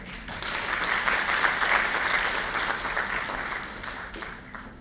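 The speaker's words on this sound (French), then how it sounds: "Je voudrais encore une fois que nous lui témoignions l'appréciation, notre appréciation pour son discours en applaudissant Maître Bébé." Sustained applause from the audience at the opening ceremony of the first Congress of Lawyers of the UEMOA region, following a speech; a dense, steady wash of clapping that swells slightly and then eases, heard alone.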